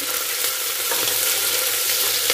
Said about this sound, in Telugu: ఒక పెద్ద ఆనియన్ అండి కొంచెం కరివేపాకు తర్వాత పచ్చిమిర్చి రెండు అండి ఇవి మంచి కలర్ వచ్చే వరకు ఫ్రై చేసుకోవాలి